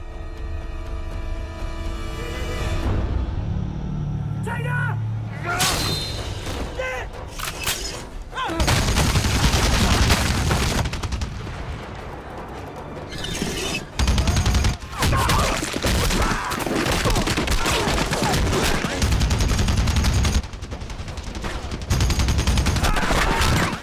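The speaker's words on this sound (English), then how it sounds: "I'd get me a 50 cal M2 HB machine gun and mount it on the roof of my MRAP" An M2 HB .50 caliber heavy machine gun fires loud, booming bursts and sustained volleys, with short pauses between strings of shots and brief talk in the gaps.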